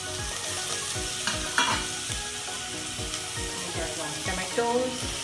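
Chopped onion sizzles and fries in a hot pan for Sindhi veg biryani, with steady crackling and repeated stirring scrapes close by throughout.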